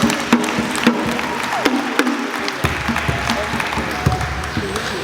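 An audience at a government event for street retail traders claps at a moderate level, with scattered sharp claps and some crowd noise mixed in.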